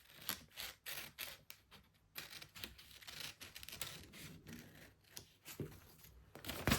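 Scissors snip through corset fabric in a series of short, crisp cuts with brief pauses, close and fairly quiet, alongside faint rustling of the cloth.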